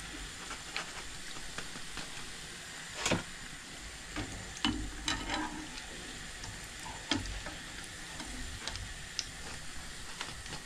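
Gulab jamun balls fry in hot oil, a soft steady sizzle close by with scattered sharp pops and occasional clinks of a utensil.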